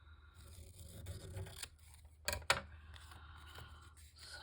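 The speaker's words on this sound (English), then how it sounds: "And then use the scissors." Scissors snip through inked paper tags in a quiet craft room, a couple of sharp close cuts followed by faint rustling, with no talking.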